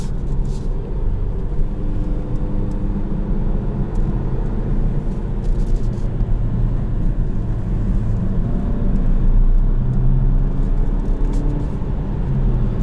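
A 2021 Kia Stinger GT-Line cruising at night gives a steady low engine and road drone from inside the cabin, continuous and even throughout.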